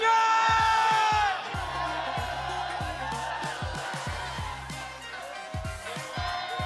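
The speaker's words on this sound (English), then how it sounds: "Bigyan na nga natin ng moment yung crowd." Crowd at an esports arena during a Mobile Legends playoff match, a loud burst of cheering that settles into a sustained roar of voices, with amplified sounds and tones from the match mixed in.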